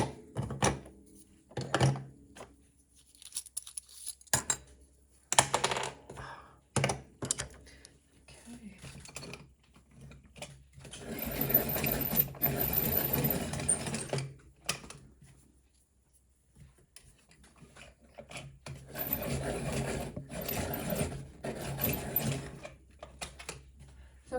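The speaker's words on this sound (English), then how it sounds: "Let me just sharpen them up." Coloured pencils are ground in a sharpener at close range, with two long, steady grinding bursts separated by quieter handling clicks and rustles.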